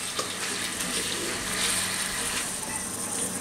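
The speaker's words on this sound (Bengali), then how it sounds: "একটু পরে মুরগিটা পানি ছাড়বে, ওই পানি টানি সহ এটাকে ভাজতে থাকবো আমি" Chicken pieces frying in a pan in the water they have released, a steady close wet sizzle and bubbling with no talk.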